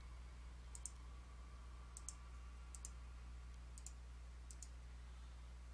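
Small digital squares in a video game puzzle are clicked one at a time, five sharp, faint clicks spaced about a second apart over a low steady hum.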